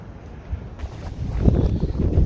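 Wind gusting through woodland on an outdoor hike, a steady low rushing roar that swells toward the end, close on the microphone with buffeting.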